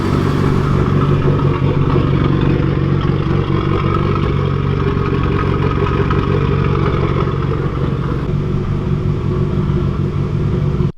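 Mitsubishi Evo 8 engine idling right after its first startup following repair work, a loud, steady rumble close by with a faint clattering texture running unbroken throughout.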